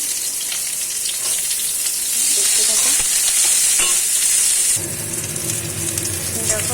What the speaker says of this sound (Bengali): উচ্ছেগুলো ওরকম করেই ভেজে নেব ওখানে হলুদ আর লবণ দিয়ে ভেজে নেবো